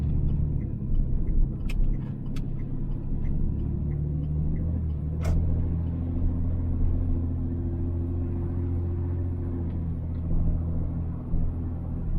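A car driving along a touring trail past an Air Force Base, heard from inside as a steady low engine and road rumble with a few faint clicks.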